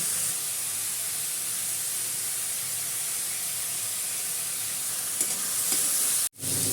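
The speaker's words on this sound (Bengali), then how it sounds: "পেঁয়াজটা কিন্তু অনেকটাই ভাজা হয়ে গেছে" Sliced onions with a pinch of salt fry in a pan and are stirred, giving a steady, close sizzling hiss that runs throughout and briefly cuts out near the end.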